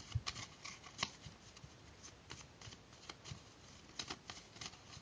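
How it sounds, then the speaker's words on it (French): A spectator shuffling a deck of playing cards during a magic trick, soft quick riffles and flutters in a quiet room, close and faint. "on lui demande de mélanger le paquet. Donc il mélange comme ça."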